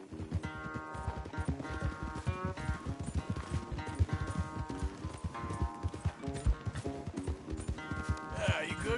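Horse galloping flat out in a race in Red Dead Redemption 2, a steady rapid clip-clop of hooves driving on throughout under a dense, loud layer of game music and ambience.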